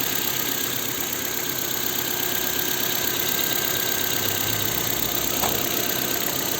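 A 2007 Ford Fusion engine idles steadily nearby after warming up, with an even, continuous hum and a faint metallic whine, running without change for several seconds.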